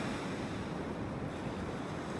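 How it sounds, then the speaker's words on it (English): Ocean surf on a beach in North Naples, Florida: a steady, broad wash of breaking waves with wind noise on the microphone, continuous and fairly loud, with no talk. "Every once in a while we get a nice wave."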